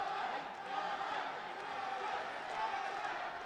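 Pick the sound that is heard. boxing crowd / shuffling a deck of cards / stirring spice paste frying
boxing crowd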